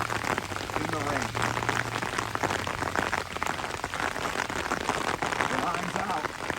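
Steady rain falls during a tense outdoor scene, a dense, even hiss that continues for several seconds alongside a low hum and faint background voices.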